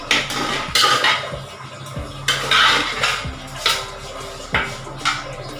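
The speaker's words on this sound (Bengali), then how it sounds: "সো ভিউয়ার্স, এটাকে এখন আমি মিশিয়ে নিব ভালো করে।" Chicken masala biryani is mixed in a cooking pot, a spoon knocking and scraping against the metal in a steady rhythm of loud clanks, with no talk.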